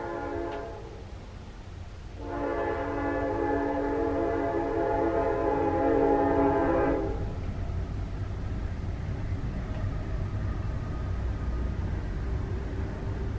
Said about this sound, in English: you can probably still hear the train, but the horn is gone at least